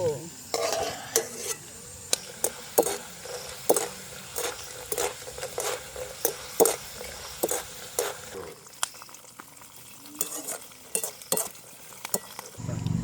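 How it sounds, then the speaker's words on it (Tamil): Peanuts frying in oil for a village-style crispy peanut dish give a soft sizzle, punctuated by repeated sharp scrapes and clinks of a utensil stirring in a pan. "நான் இந்த கச்சாம்பருப்புக்கு பொரிச்சு எடுத்துட்டு தான் கொஞ்சம் உப்புந்தோளும் சேர்க்க போகிறேன்"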